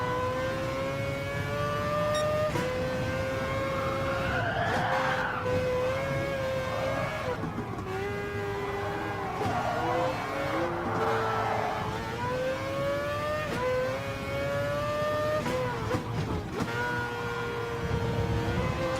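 Racing cars lap the Nürburgring in a PS5 video game, with engines whining and shifting pitch through rising revs and gear changes, loud and continuous throughout.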